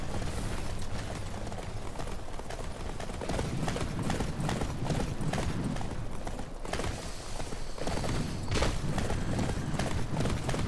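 Horse hooves clip-clop at a running pace in the Attack on Titan video game, a dense, continuous pounding gallop mixed with game noise, loud and close throughout.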